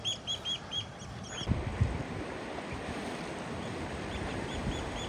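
A few loud, shrill piping calls from an oystercatcher near its nest ring out at the start, followed by a steady wash of sea and water noise with faint, distant calls returning toward the end.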